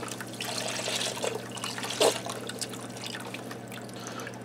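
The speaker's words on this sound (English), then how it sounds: "And while I'm adding my beef broth" Beef broth poured from a carton into a cooker pot makes a soft, steady liquid trickle and splash, faint and close, with a brief louder gush near the middle.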